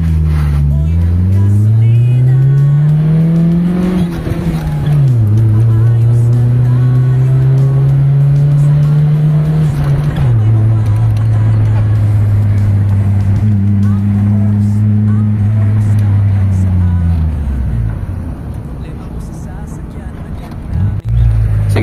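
Mitsubishi Lancer with a 4G13 engine and a carburetor problem on a test drive, loud steady engine drone from inside the car, rising through the gears with shifts, then easing off near the end.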